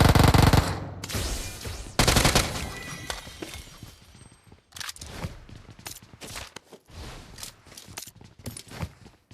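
Rapid automatic gunfire in the mobile battle royale game BGMI, loud sustained bursts at the start then scattered shorter volleys and single shots, with faint footsteps and shattering between them.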